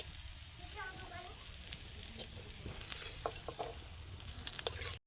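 Garlic fries in oil with a pinch of salt until well browned, giving a moderate crackling sizzle with small pops and stirring scrapes. A person talks over it.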